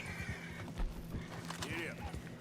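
A horse whinnies with rising and falling cries while hooves clip-clop in Red Dead Redemption 2, an American Standardbred, and people talk over the sounds.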